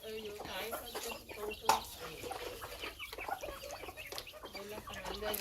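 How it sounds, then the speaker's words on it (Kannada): Native country chickens, a flock of hens with a couple of roosters in a village yard, cluck steadily and repeatedly nearby, with intermittent speech mixed in throughout. "ಇವೆಲ್ಲ ನಾಟಿ ಕೋಳಿನೇ."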